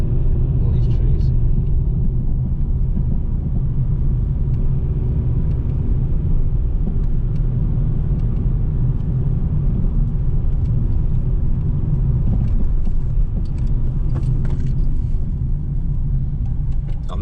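A big car's engine rumbles steadily nearby on a wooded road up Conwy Mountain in North Wales, a low continuous drone running throughout at close range.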